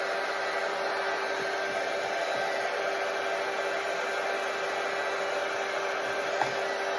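A heat tool warming paper earrings blows a steady, even whoosh of hot air, close and continuous for the whole stretch, with no speech.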